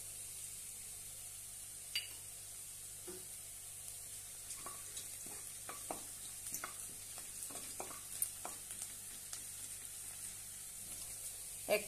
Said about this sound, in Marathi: कांदा आपण लालसर असा परतून घेऊया। थोडासा कढीपत्ता घालूया।